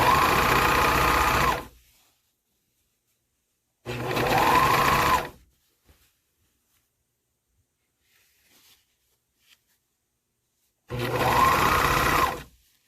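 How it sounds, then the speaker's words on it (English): A sewing machine stitches a dress being resized, running in three loud bursts of steady mechanical whirring separated by long silences, with faint small clicks in the gaps. "I'm gonna sew a little bit right here with the sewing machine"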